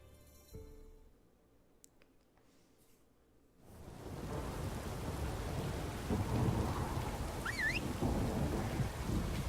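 A thunderstorm in The Witcher 3 while riding a horse: a few quiet seconds with a faint sharp crack, then heavy rain bursts in with deep rumbling thunder and keeps pouring steadily to the end.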